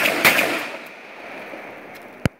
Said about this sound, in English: how fast can it shoot in double action only?